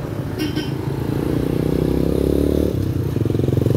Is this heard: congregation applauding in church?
no